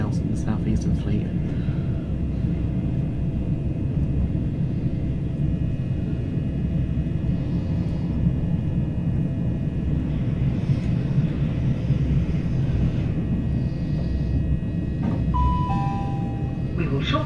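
A Southeastern class 376 electric train runs between Ramsgate and Charing Cross, giving a steady interior rumble and hum for the whole stretch, with faint tones near the end.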